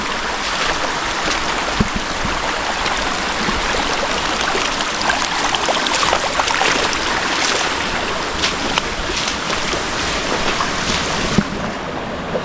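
Steady rushing of creek water flowing over rocks near Mainit Hot Springs, Cebu, Philippines, a constant broadband wash close by with no voices.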